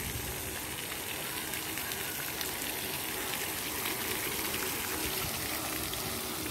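Water gushes and flows steadily in an open public space, a continuous broadband rush with no pauses and no speech over it.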